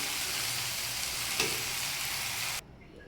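Flat beans (sim) fry in a pan with a steady, dense sizzle that holds evenly, then cuts off abruptly, leaving faint room quiet.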